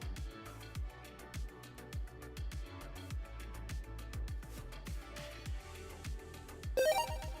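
A super chat notification chime sounds briefly near the end of a livestream, a bright ringtone-like jingle rising over steady rhythmic background music with punchy beats.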